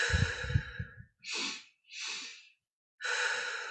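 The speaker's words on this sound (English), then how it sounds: "In through the nose, out through the mouth." A person breathes slowly and audibly in several separate breaths, soft airy inhales and exhales close to the mic with silent gaps between them, following brief low talk at the start.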